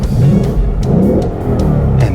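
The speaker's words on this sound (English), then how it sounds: "And man, listen to that engine." A 2015 Ford Mustang GT engine revs near the listener from inside the car, with rising and falling swells of a deep, loud engine note and no voices.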